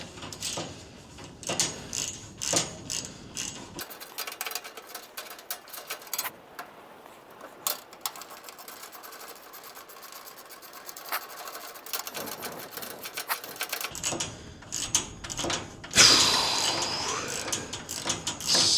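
A ratchet wrench with a 10 mm socket works a bolt on the blade guard of a Mechmaxx SM-32 sawmill, giving quick runs of close mechanical clicks that start and stop over steady background noise.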